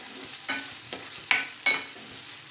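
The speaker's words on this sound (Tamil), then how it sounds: "கொஞ்சம் ஃப்ரை ஆகட்டும் கிறிஸ்பியாக." Paneer frying in oil in a nonstick pan, a quiet sizzle broken by four or five sharp scraping stirs and spatters, close and alone.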